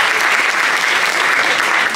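Audience applause fills the space, dense and steady clapping from a crowd at a French event, loud and continuous with no voice over it.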